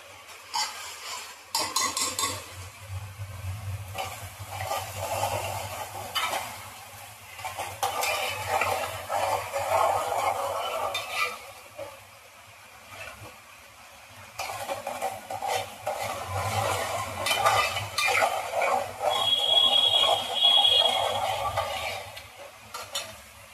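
Whole red lentils crushed in a cooking pot, a sustained stirring and scraping of a utensil against the pot with soft sizzling, close and continuous with brief pauses, no voices.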